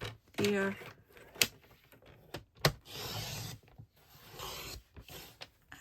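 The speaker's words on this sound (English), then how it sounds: "And just cut that on the diagonal." A paper trimmer slices cardstock on the diagonal in a couple of short, sharp cutting strokes, with quiet rubbing and handling between them and close speech nearby.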